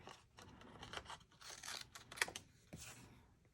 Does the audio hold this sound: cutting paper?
yes